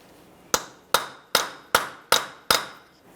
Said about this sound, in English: Hammer and punch directly in the center here.